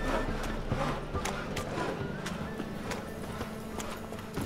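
Horse hooves clip-clopping at a brisk gallop in The Witcher video game, a steady rhythmic beat with game voices speaking over it.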